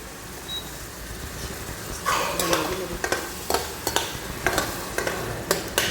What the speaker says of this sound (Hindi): छौंका रेडी कर रही हूँ